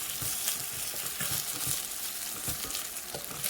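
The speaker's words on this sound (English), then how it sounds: "what I'll do is just mix everything together and cook my rice" Rice and vegetables stirred and cooking together in a pot for a vegetable pilau, a steady close sizzle with soft scraping and clinks of the spoon, no talking.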